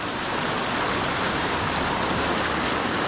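A small waterfall pours steadily into a pool along a Southern California stream, a dense, close, unbroken rush of water with no voices.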